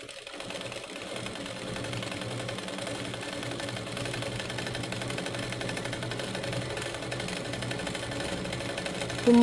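A sewing machine stitches an umbrella dress with a steady, even mechanical whir that runs unbroken and fairly close, ending in a sudden louder bump.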